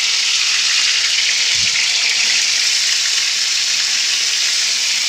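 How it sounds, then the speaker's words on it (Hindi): Okra, dried beforehand, sizzling in hot oil for bhindi gosht, a loud steady close frying hiss that runs unbroken throughout, with one soft low knock partway through. "ये जो हमने भिंडी खुश्क की हुई थी इसे हम इसमें फ्राई करेंगे"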